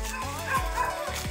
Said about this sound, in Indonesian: sudah ada anjing menggonggong.